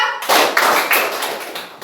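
Classmates clapping together in a counting clap game in a classroom, a loose burst of ragged group claps that trails off unevenly rather than landing in crisp unison.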